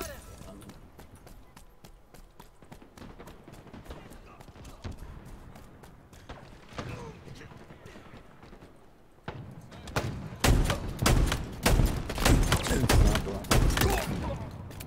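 Rapid gunfire and weapon bursts in the shooter game Halo Infinite, a dense steady rattle that grows louder and more intense in the second half, with players talking over it.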